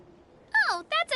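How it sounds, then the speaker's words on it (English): A cuckoo soar bird calls in Genshin Impact's Natlan: two bright, swooping chirps, the first a falling glide and the second a quick trill, close and clear over a quiet background. "that's a cuckoo soar. They fly high and fast, and they're always full of energy."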